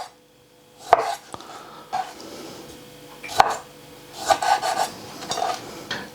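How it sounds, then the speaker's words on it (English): Knife cutting a fresh tomato into wedges on a board, a few sharp separate chops and slicing strokes with quieter scraping and rustling between them, close and alone with no talk. "I'm starting off with a nice tomato, which I'm going to cut into wedges."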